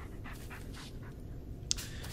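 A dog pants in the Blair Witch horror game, a steady run of soft, quick breaths close by over a low ambient forest rumble, with one sharp click near the end.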